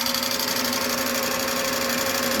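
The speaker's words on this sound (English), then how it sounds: "The film is now spooling back." An RCA TP-66 16mm film projector runs in reverse with a steady mechanical whir and fast rapid clatter, its motor hum constant and close, with no talk.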